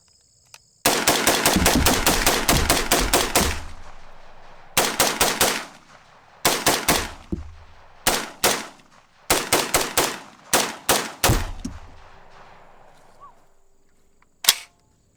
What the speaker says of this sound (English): I got a full 30 rounds loaded up right here. Let's just do a mag dump.